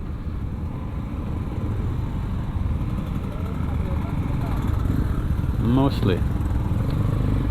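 Constant engine drone of a motorcycle moving through traffic in Indonesia, with a brief voice and a passing horn-like tone near the end.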